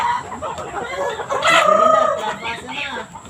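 Hens cluck steadily nearby while a rooster-like call rises in the middle, a busy continuous flock sound with faint voices underneath.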